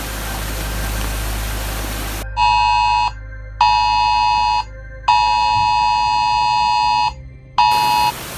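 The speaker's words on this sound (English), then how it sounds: "When the alarm went off" An electronic alarm buzzes in loud on-off bursts of a harsh, steady tone during night-time flooding from Hurricane Helene in western North Carolina, four long blasts separated by short gaps over a low rumble.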